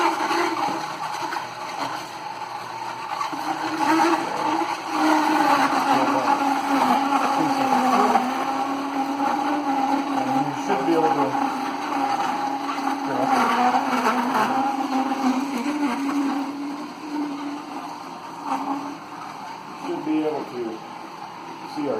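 A juicer machine pressing fruit and a mix of greens, giving a continuous mechanical whir and grinding hum that shifts in pitch as produce goes in, with speech over it.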